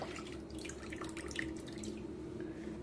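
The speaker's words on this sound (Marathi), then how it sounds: "तर आता ही मी कढई काढून घेते पाण्यातून" Water sloshes and drips steadily as an iron wok, left soaking for hours, comes up out of the water, with a close, continuous trickle and no talk.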